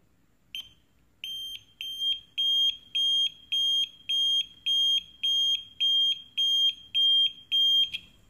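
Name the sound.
electronic buzzer beeping in intermittent mode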